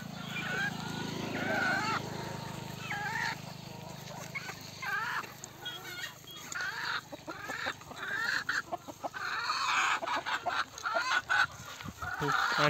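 Farm hens cluck and call repeatedly to lay eggs, a busy flock heard close by in irregular bursts, with a rooster crowing and people talking faintly in the background.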